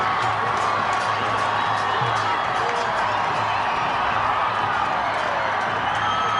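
Fans at a Bhutan–Sri Lanka World Cup qualifier football match cheer nonstop, a broad, steady stadium roar with occasional shouts rising out of the mass of voices.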